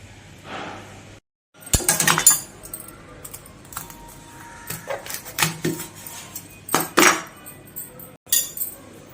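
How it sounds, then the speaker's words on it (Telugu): A spoon scrapes the seeds out of a cut bitter gourd, giving sharp clinking and scratching contacts in irregular bursts, close up with quiet pauses between. "ఇలా స్పూన్తో తీసేసుకుంటున్నాను నేనంతా లోపలిది"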